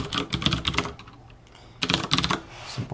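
Close typing on a computer keyboard: two quick bursts of clicky keystrokes separated by a short pause, with no voices.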